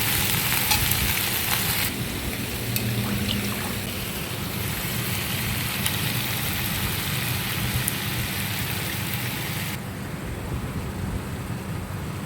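Dhekia fern greens fry dry in a pan, dropped in a little at a time, giving a steady, close sizzle that hisses without a break and brightens at moments.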